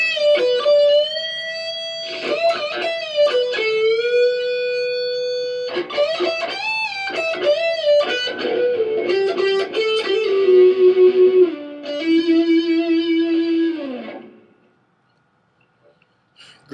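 An electric guitar played on its neck pickup through a Line 6 AX2 amp rings out bright, sustained melodic lines with bends and slides, loud and alone before fading to silence.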